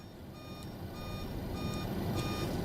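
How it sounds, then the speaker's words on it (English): A Boeing 727-200F cabin altitude alarm in the MSFS2020 flight simulator sounds as a steady, moderately loud electronic warning tone with faint periodic high blips, running continuously over a low engine rumble. "That is the cabin alarm."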